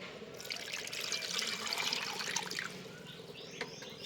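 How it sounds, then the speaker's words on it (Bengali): Water running and splashing quietly as small chicken pieces are rinsed in a home kitchen, a soft continuous trickle with a few drips toward the end. "এবার মাংসগুলো প্রথমে আমি ধুয়ে নেব ভালো করে জল দিয়ে"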